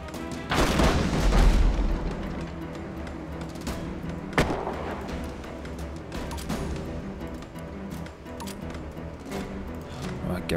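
Ship cannons firing in the naval combat game Abandon Ship: a heavy booming volley near the start, then scattered deep blasts and crackling impacts over a dense battle din, with a voice talking throughout.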